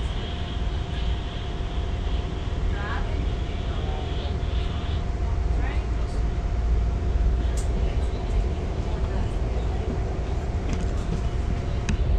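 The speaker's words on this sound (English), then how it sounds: "Train heading southward" Amtrak train pulling out of Chicago Union Station heading south, a steady loud rumble of rolling wheels with a constant hum and faint squeals, continuous throughout with no talk.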